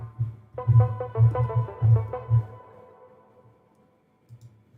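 Bottom Feeder pluck synth preset from the Duets library, played as a reggaeton pluck line: a run of short, bright plucked notes over thumping low bass hits, each decaying quickly, before the phrase fades to near silence with a couple of soft bass notes at the end.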